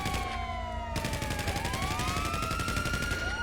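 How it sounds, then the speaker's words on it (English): Gunfire erupts in a GTA roleplay street scene as a police siren wails and sweeps overhead, with rapid shots layered under the continuous rising and falling siren tones. "They just started shooting."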